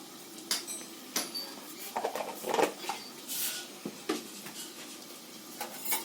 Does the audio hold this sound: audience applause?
no